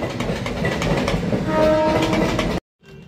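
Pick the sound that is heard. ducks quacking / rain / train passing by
train passing by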